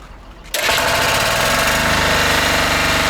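A walk-behind tractor (motoblok) engine starts abruptly and then runs loud and close with a steady, rough, chugging drone, after a brief quieter moment.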